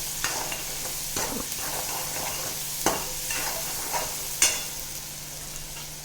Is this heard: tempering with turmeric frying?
yes